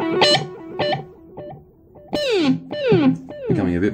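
Electric guitar through a Mooer GE100 multi-effects pedal set to standard echo: picked notes and chords, each trailed by clear repeating echoes that decay, loud and alone.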